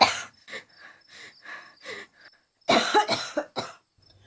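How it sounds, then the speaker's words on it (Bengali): A woman who has just woken, sweating and breathing hard, with water seemingly in her nose, has a close coughing fit: repeated harsh hacking coughs in two bursts, separated by gasping breaths and a brief pause. "কাশির দমকে ফুলে ফুলে উঠছে শরীর"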